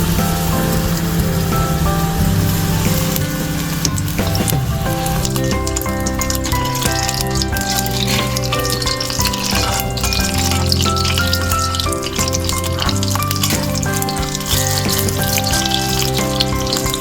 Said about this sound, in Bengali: এবার ভাজবো, কড়াই বসাবো, চটপট ভাজবো আর খাবো